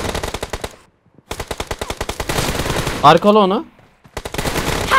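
Rapid automatic gunfire from the mobile battle-royale game PUBG Mobile comes in loud, close bursts broken by short pauses, while players talk excitedly over the shooting.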